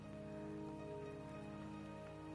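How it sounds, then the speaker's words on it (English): Rain in the video game Wuthering Waves makes a faint, uniform hiss of drops over a steady low drone, with no voices and no change across the short stretch. "Lovely rain."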